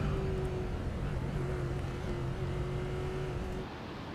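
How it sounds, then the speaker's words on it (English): A supercharged V8 race car engine in a racing video game at Watkins Glen drones steadily with a high supercharger whine riding on top, fading slightly toward the end. "Probably from the inside you're hearing some supercharged whine."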